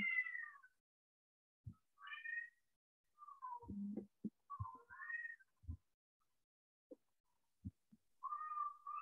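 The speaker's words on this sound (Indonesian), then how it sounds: "Di saya itu ada kucing lagi berkelahi." Fighting cats yowl and meow in sharp, wavering cries, with scattered thumps and scuffles between calls, fairly close and otherwise quiet.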